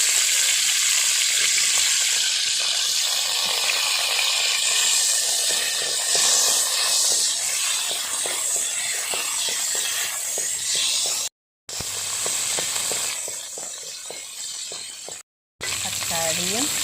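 Okra frying in hot oil in a pan for Kerala-style village sambar, giving a loud, continuous hissing sizzle close up, broken by two brief silent gaps.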